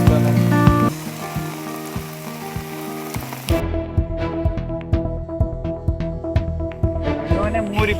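Heavy rain pours down in a village, a dense steady hiss with patters and drips on surfaces, loud and close throughout, with a louder, more spattery burst of drops in the second half.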